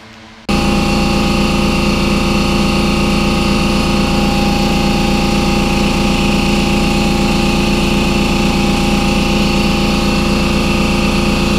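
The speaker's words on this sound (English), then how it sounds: "if I forget to turn on my compressor, it takes forever" A shop air compressor runs steadily during a side skirt install, a loud, constant mechanical drone with a low hum that starts abruptly after a brief quiet moment and continues unbroken.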